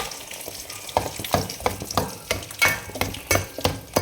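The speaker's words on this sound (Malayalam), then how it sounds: "പിന്നെ നമുക്ക് ഈ തേങ്ങയും കൂടെ വറുത്തരക്കാൻ ഉണ്ട്. അത് വറുത്തെടുക്കാം." Grated coconut roasts in a pan for jackfruit erissery, sizzling steadily while a spoon scrapes and stirs in repeated sharp strokes, close and loud with no talking.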